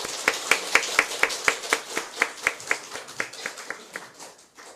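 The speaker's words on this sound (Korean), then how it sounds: "우리 부활하신 주님께 감사와 영광의 박수 올려드리겠습니다." Congregation in a church service clapping in unison, a steady rhythmic series of sharp claps about four per second that gradually softens and thins toward the end, with no voices over it.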